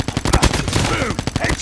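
Rapid gunfire from the mobile shooter Call of Duty Mobile cracks out in a fast burst of close, loud shots, with game voice lines over the action.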